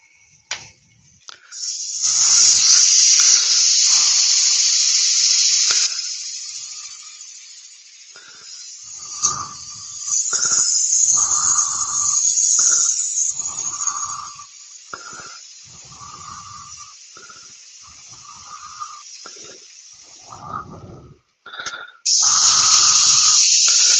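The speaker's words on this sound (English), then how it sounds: "Right, get that bit sanded now." Sandpaper hisses against a thin ash end grain dish spinning on a wood lathe, loud bursts of abrasive rushing noise broken by quieter pauses in which a person talks.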